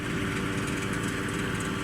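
Steady, continuous engine drone from a Tümosan 8085 tractor working with a Fimaks forage harvester cutting corn for silage in a field, a dense unbroken roar with no talk.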